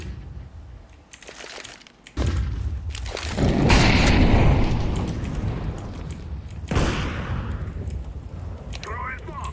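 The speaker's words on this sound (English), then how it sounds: "I'm throwing a flashbang." Flashbang grenade thrown during a competitive tactical shooter match, a loud burst around the fourth second followed by a sustained roar, with players talking over it.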